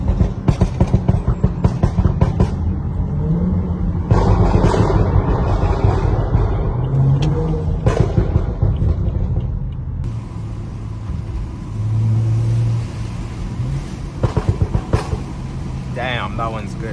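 BMW exhaust burble while driving, with a steady engine rumble broken by bursts of crackling pops and bangs, recorded close up in a moving car, with a voice occasionally speaking over it.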